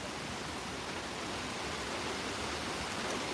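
Heavy rain pours steadily during a New York City thunderstorm with strong winds, a dense, unbroken hiss and roar that stays loud and even from start to finish.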